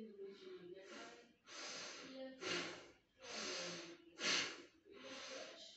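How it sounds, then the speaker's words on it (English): Deep breathing exercise in the prone ventilator-breathing posture: six long, loud, close breaths, alternating inhales and exhales, each a hissing, slightly snorting rush of air separated by short pauses. "Pronal posture, just deep breathing and enjoy."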